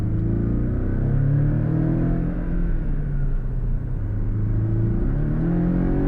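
A Porsche 718 Cayman Style Edition engine pulling hard on kick-down, a loud, close, continuous mid-pitched roar with rising and falling tones as revs climb and shift, heard from inside the car with no talking.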